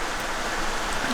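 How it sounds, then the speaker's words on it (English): Steady rain falls at a bush campsite, a dense even hiss of drops on surfaces, constant and fairly soft with no voices. "It started raining"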